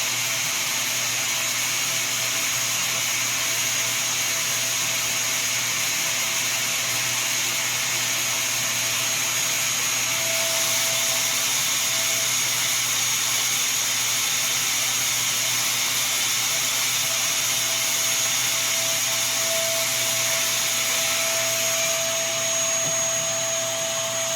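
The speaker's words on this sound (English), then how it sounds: "This is definitely going to be winning some awards for the noisiest printer I've come across" An FLSun T1 3D printer runs loudly through its self test, giving a steady, unbroken mechanical roar with a whining fan tone for the whole stretch, close and constant with no voices.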